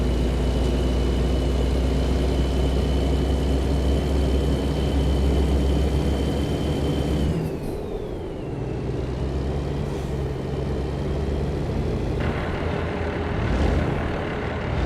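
A truck engine drones steadily while driving through corners, with a brief dip and a gear change partway through as the engine note drops and settles at lower revs, loud and continuous with no talk.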